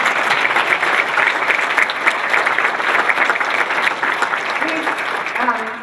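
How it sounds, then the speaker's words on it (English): At a business appreciation breakfast, an audience gives sustained loud applause for the sponsors, a dense even wash of clapping throughout, with some voices mixed in near the end. "So the people up on that screen, please give them a round of applause."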